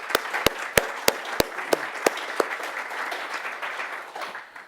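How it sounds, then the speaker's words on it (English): A quick round of audience applause at a workforce-preparation event, starting with a few loud separate claps over a steady patter of clapping that thins out and fades over about five seconds. "just a quick round of applause"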